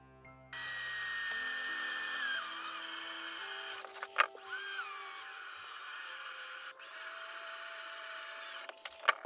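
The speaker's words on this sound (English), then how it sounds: "Just have to drill two holes." A power drill bores two holes through aluminum angle stock being cut into sign-mounting stakes, a steady high whine running for several seconds, briefly dipping between holes, close and loud with no talking.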